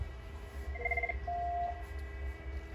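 A VoIP desk phone plays quiet dialing tones: a quick run of short beeps followed by one longer tone, faint over a steady low background hum.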